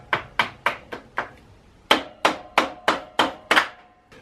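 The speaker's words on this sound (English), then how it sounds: "Where's my little hammer? Give it some love taps." A small hammer taps about a dozen times in two quick bursts on a Honda CRF250 Rally rear spring, sharp metallic knocks at a steady rhythm, close and clear.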